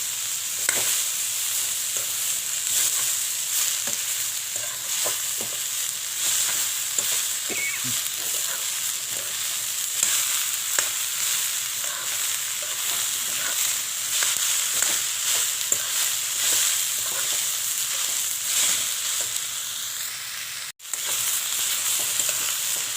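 Potatoes and chopped banana stem sizzle steadily in a pan with occasional stirring scrapes, a constant bright frying hiss with no talk, cut briefly near the end.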